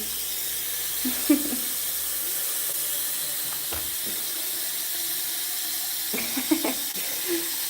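Water poured from a watering can onto potted perennials outdoors, a steady hissing splash that runs the whole time, with a few faint knocks and clatters near the start and toward the end, no talking.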